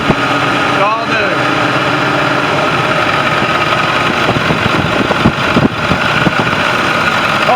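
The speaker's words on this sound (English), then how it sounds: "Listen to this engine" A 2013 International shuttle bus engine idles close by with a steady, loud mechanical drone that runs throughout, while a person talks over it.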